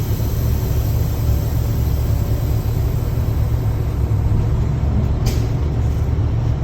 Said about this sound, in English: I'm going to release my tractor and tug against my trailer.